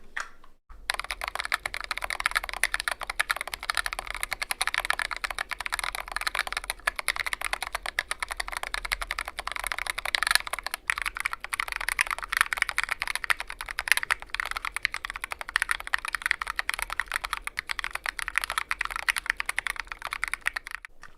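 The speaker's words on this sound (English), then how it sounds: "let's just get into the typing tests" Continuous, fast typing-test keystrokes on a mechanical keyboard fitted with custom-cut case foam, with dense clacking heard up close for the whole stretch.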